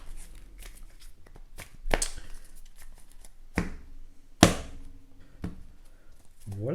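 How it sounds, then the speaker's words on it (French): A deck of cards for the Marvel Champions card game being shuffled by hand: a handful of sharp, crisp riffling bursts separated by quieter handling rustles, close and clear. "Je brasse le deck"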